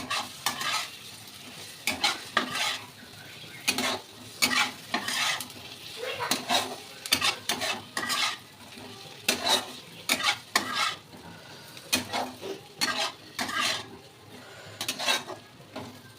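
Potato and pointed gourd frying in a pan while being stirred, with a steady sizzle under repeated scraping strokes of a spatula against the pan, arriving in irregular bursts, close and moderately loud.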